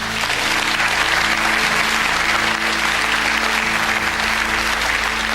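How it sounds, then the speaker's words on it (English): A studio audience applauds contestants in a soprano singing competition, loud, dense and continuous clapping close by with a low steady hum beneath and no voices. "A round of applause, please."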